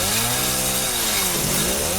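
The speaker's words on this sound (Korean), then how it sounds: "오, 전기톱!" A chainsaw runs in the Resident Evil 7 video game, a loud, continuous buzzing drone whose pitch swoops down and back up as it revs, with no voices over it.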